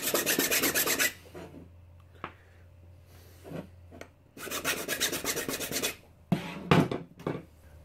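A freshly cut plastic Nerf Nite Finder blaster barrel is cleaned up with a file: loud, close rasping strokes in several bursts, the longest lasting around a second and a half, separated by short quiet pauses.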